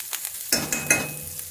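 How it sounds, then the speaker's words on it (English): Onion cooks in a pan on a lowered flame, making a soft sizzle broken by a few sharp stirring clinks and taps close by. "So I'll reduce the flame. Let the onion cook little bit."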